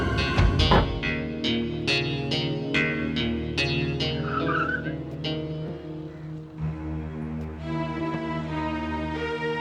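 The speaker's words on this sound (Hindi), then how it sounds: "जल्दी कार चलाओ" A car drives fast in a dramatic television scene, engine roaring with tires skidding and squealing, loud and continuous alongside tonal background music.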